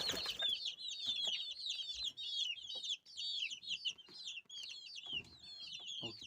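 Dakan breed chicks, about twenty days old, and grown chickens cheep and cluck close by. Dense, rapid high peeping runs almost continuously, with a few louder clucks and scuffs underneath.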